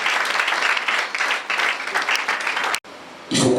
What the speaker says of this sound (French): Acclame-moi très fort pour le Seigneur.